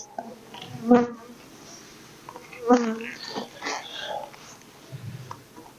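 Honey bees buzz at an opened hive, with two stronger bursts as a bee passes close, then softer scattered buzzing and handling noises.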